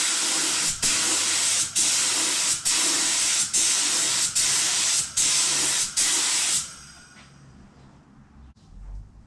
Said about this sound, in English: just on this rag, have a bit of a test spray, right?